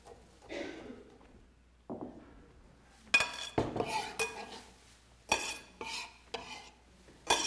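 Chef's knife chopping produce on a cutting board during a kitchen cooking demonstration, a run of crisp, fairly close knocks in short bursts after a quieter start, with no speech.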